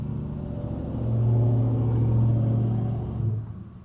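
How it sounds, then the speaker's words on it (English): A loud truck engine rumbling nearby outdoors, a deep steady drone that swells in the middle as it revs and then fades back down. "This truck is loud."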